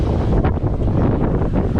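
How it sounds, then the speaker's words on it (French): Strong wind of over 18 knots buffets the microphone aboard a sailboat crossing between Horta and Ponta Delgada in the Azores, a loud continuous roaring rumble with gusty surges and possible wave wash beneath. "Là il y a plus de 18 nœuds de vent."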